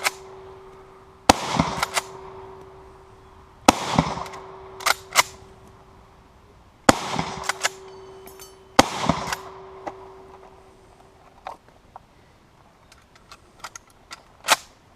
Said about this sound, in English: We're going to see how fast I can accurately engage this with 15 rounds